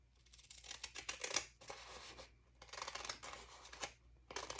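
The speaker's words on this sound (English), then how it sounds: "I'll just use the scissors" Scissors snip and rasp through newspaper covered with gift wrap in two close bursts of rapid cutting, separated by a short pause, near and fairly quiet.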